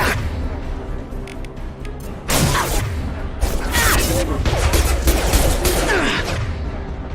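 Gunfire from Mass Effect 2 Legendary Edition: faint shots at first, then a louder stretch of rapid firing with whooshing effects and background combat noise.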